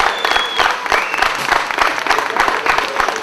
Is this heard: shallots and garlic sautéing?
no